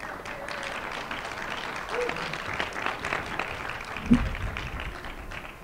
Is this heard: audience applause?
yes